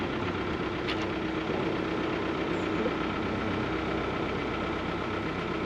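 A narrowboat's engine chugs steadily underway on a UK canal, a low, even, vibrating rumble that stays fairly quiet and unchanging throughout with no voices.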